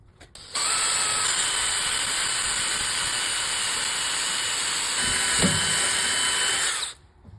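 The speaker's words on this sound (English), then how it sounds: "now I'm gonna come back and drill these" A power drill whirs steadily for several seconds, loud and close, bogging slightly as it bites into a handmade shift knob to drill set-screw holes before stopping.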